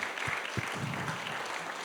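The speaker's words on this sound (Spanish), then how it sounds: "Hermano, dale un aplauso al Señor." A church congregation applauds in a steady, dense wash of clapping, with a couple of louder close claps near the start, during a Spanish-language sermon.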